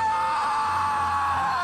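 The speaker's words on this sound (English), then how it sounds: "The Stu Pickles scream from Rugrats" The Stu Pickles scream sound effect from Rugrats: one sustained, loud, strained scream held steadily at close range, with no other sounds.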